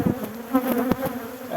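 Honeybees buzzing inside an opened beehive, a close, agitated drone with fluctuating pitch and short louder surges as individual bees pass near.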